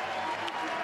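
A rugby crowd at a Treviso home match roars in a steady, dense wash of cheering and applause, heard from a distance as a broad continuous swell.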